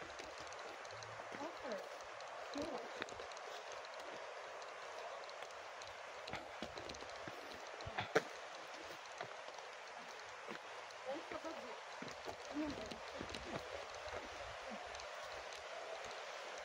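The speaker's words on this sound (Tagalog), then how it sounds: "Narinig na natin ang tinig ng tubig," Water flows at Locong Falls, a steady, faint rushing hiss that stays constant in the distance while people talk and walk along the trail.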